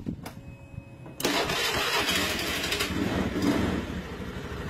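An electric starter cranks a fuel-injected Honda Beat scooter engine despite a new battery: a brief whir, then a loud sustained churning crank and rumble, close by with no talk.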